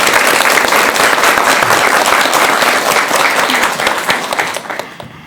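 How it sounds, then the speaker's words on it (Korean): A studio audience at a Korean television talk show claps loudly and steadily, sustained applause filling the room before tapering off at the end. "여러분 다시 한번 더 큰 박수 부탁드립니다"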